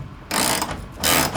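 A socket ratchet tightening a nut onto a washer on a wooden shelf build, two close, loud bursts of rapid clicking from the pawl, separated by a brief pause.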